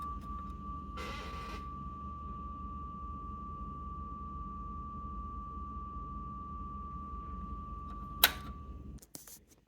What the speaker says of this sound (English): So I'm just plugging the electromagnet directly into the Arduino here